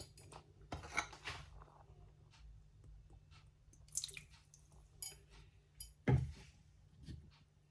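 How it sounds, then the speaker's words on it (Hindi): Lemon juice poured into a chicken marinade for grilled chicken: a few faint drips and small liquid splashes with soft handling noises, quiet, with no talk. "और 1 टेबल स्पून डालेंगे इसमें लेमन जूस का।"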